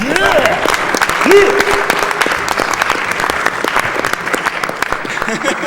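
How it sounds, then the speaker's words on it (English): An audience claps steadily, dense applause lasting throughout, with a voice talking over it near the start, at a live speedrun event of Kirby Super Star. "You can clap."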